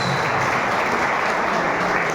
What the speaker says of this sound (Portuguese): Dá palmas no nome de Jesus.